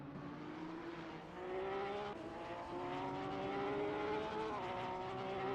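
GT3 race car engine in a racing video game at Oulton Park, a steady droning whine that steps up in pitch with short-shifted gear changes, continuous and moderately loud with no talk.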